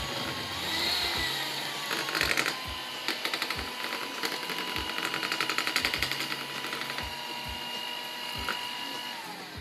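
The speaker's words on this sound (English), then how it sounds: "Now the ingredients are completely mixed, so you can turn off your electric mixer." An electric mixer whirs steadily while beating the three ingredients for homemade chocolate ice cream, a continuous motor hum with a rattling, clicking texture as the beaters knock against the bowl, fairly close and alone.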